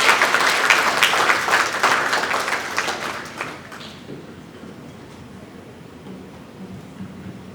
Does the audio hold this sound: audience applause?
yes